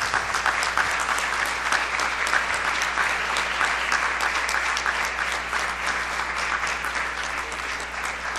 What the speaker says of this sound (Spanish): Les pido un fuerte aplauso para el doctor Rodrigo Gámez.